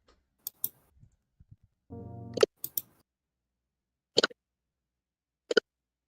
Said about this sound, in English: Y'all can hear me clicking.